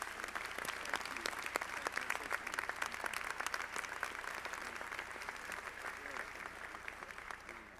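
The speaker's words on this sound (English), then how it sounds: "can we please give Dr. Urbaski another huge round of applause" A graduation ceremony audience at a medical school gives a long round of applause, dense steady clapping with sharp individual claps standing out, heard faintly from a distance throughout.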